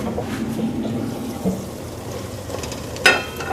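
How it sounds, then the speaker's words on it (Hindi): Water poured into tomatoes sizzling in a cooking pot for peas potato pulao, with soft frying crackle and stirring, and a sharp splashy hiss near the end. "और इसमें 2-3 टेबलस्पून सिर्फ पानी डालना है"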